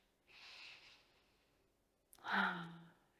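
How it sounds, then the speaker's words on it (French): Two slow breaths, one adult breathing with a child, both calm and close: a soft, airy inhale followed by a fuller, louder exhale that trails off, with no talking. "Prenez une grande respiration ensemble."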